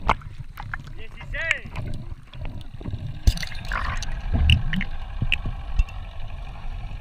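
A boat passes overhead, heard underwater during a spearfishing dive in very dark sea water, as a muffled low rumble and wash that swells in the middle and fades, with faint clicks and bubbling throughout.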